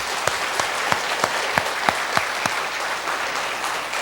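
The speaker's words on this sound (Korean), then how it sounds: "하나님 아버지께 영광의 박수를 뜨겁게 올리겠습니다" Congregation applause in a church service, a fast regular clapping beat of many hands in unison, with sharp rhythmic claps over a crowd wash that keeps going.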